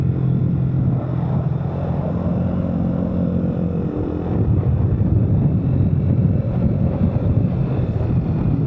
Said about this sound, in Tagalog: malamig tapos malakas yung hangin.